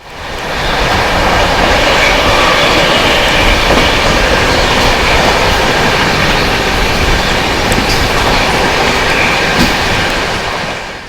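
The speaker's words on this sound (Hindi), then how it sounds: "यहाँ पे हम फिलहाल अच्छे खासे स्पीड में Sawai Madhopur junction railway station को स्किप कर रहे थे।" Rajdhani Express running at high speed past Sawai Madhopur Junction on the New Delhi–Kota main line, a loud, steady roar of wheels and carriages with faint clickety-clack and brief squeals, no talk.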